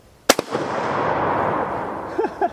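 A military surplus rifle fires a single sharp, loud shot at a steel target downrange, followed by a long decaying echo across an outdoor range and then a couple of faint metallic clinks.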